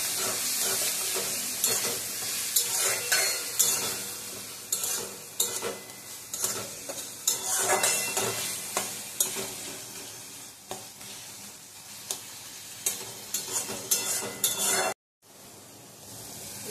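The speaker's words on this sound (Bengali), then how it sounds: "এবার রসুন আদা আর লঙ্কা পেস্ট দিয়ে এটা একটু নাড়াচাড়া করে" Onion stir-fried with ginger, garlic and chili paste sizzles steadily in a pan, with frequent close scraping and stirring strokes and a few light clinks of utensils throughout, briefly cutting out near the end.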